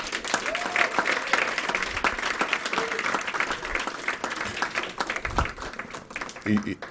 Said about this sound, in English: Can we give our brother another round of applause,